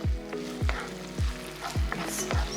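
Food fries in sesame oil in a pan, a steady sizzle broken by regular spatula strokes that scrape and knock about every half second.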